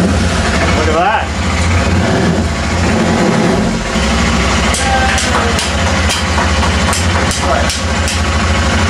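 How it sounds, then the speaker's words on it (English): A motorcycle engine idling in neutral with a noticeable knock, loud and close, a steady rumble with repeated sharp ticking transients and a person speaking briefly over it. "Does the engine always knock like that?"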